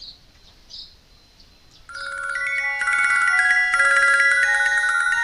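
A phone ringtone chimes at moderate volume, starting after a couple of faint chirps and continuing as a steady repeating melodic ring with layered tones until the clip ends, with no voices.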